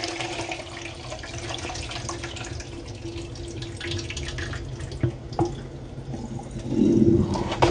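Water runs steadily from a tap during outdoor cooking, a continuous close splashing with a few drips, swelling louder near the end.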